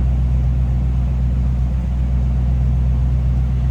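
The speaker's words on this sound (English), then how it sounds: "How good does that sound? Nothing crazy over the top of the exhaust." A 1955 Ford Fairlane Sunliner convertible's engine rumbles steadily from inside the car while driving, a deep, even exhaust drone with no talking.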